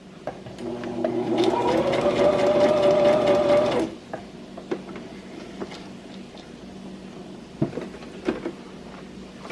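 A Brother XM2701 sewing machine runs a zigzag stitch in one close, loud burst of about three seconds with a rising motor whine. Afterward it stops, leaving quiet room tone with a few soft clicks and taps.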